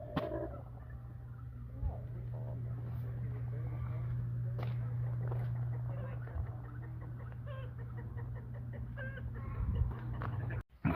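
Turkeys gobble and cluck at a poultry processing facility alongside a steady low engine hum, with occasional voices and clatter nearby.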